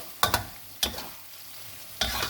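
A stir-fry with salted egg sizzles softly while a spatula scrapes the pan in three short bursts, close and clear with no voices.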